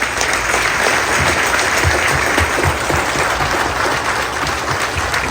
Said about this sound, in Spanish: Vamos a dar un aplauso a San Nicolás de Bari